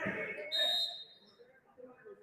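A referee's whistle sounds once, short and sharp, at a JV boys basketball game in a gym, amid crowd noise and a commentator's talk.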